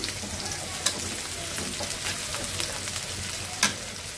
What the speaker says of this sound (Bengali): এই যে মূলার শাক ভাজি হচ্ছে, এখানে রসুন পেঁয়াজ দিয়ে দিচ্ছি